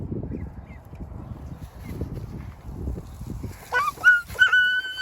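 Ducks on a grassy outdoor course give a few honking, quacking calls late on, nasal and fairly close, over a low rustling, scuffling background with no talking.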